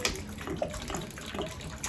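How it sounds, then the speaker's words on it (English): Cold tap water pours steadily into a gallon water jug, a continuous close, hissing, splashing stream that stays even from start to finish. "Then you fill the rest up with cold water."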